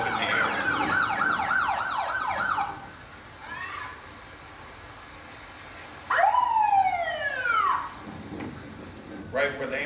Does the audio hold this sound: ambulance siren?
yes